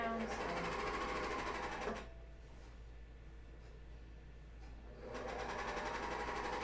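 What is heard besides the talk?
sewing machine stitching underwear elastic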